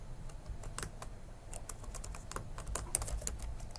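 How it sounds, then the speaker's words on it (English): Quick, irregular keystrokes on a computer keyboard as a shell command alias is typed at a terminal, ending with an Enter press; close and fairly loud, with no one speaking. "Typing the alias name and pressing enter"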